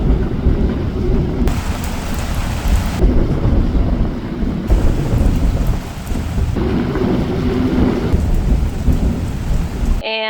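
Heavy rain pours steadily with deep rolling thunder rumbling throughout, loud and close, with no voices.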